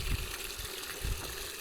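Water runs into a bucket for a car wash with a steady, broad hiss and low splashing thumps, faint and close, with no voices.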